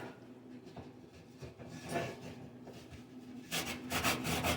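Lemon peel rubbed against a grater for pie filling gives a soft, rhythmic rasping of repeated strokes, close but fairly quiet, growing a little louder toward the end, with no voices.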